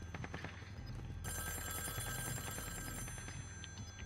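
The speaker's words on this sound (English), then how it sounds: "My phone is going off again." A telephone rings repeatedly inside the Call of Duty Warzone video game, a steady electronic bell tone running over layered gunfire and game noise, with no talk.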